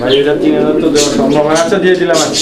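Pigeons offered for sale at a farm coo in low, throaty, close phrases while someone talks loudly over them.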